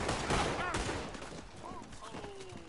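A Red Dead Online duel, a western video game, brings a burst of loud gunshots with echoing tails that fade away over a steady noisy background.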